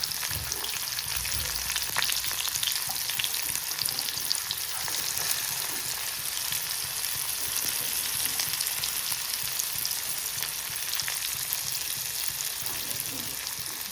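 Onion fries in oil with cumin, a dense, even, close hiss of sizzling that runs without pause.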